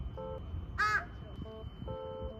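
Crows caw on Hallasan mountain, a few separate hoarse calls spaced out over a couple of seconds against low wind and outdoor rumble, with one sharper bird note in between and no talking.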